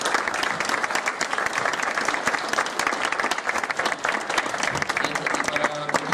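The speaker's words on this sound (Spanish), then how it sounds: "le damos un fuerte aplauso" Loud, dense applause from a conference audience, steady clapping throughout with a murmur of crowd voices mixed in.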